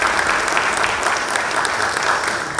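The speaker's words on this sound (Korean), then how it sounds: "다시 한번 이호준 감독님께 큰 박수 부탁드리겠습니다" A crowd at the NC Dinos baseball manager's inauguration ceremony gives loud, close, dense applause, a continuous burst of many hands clapping without pause.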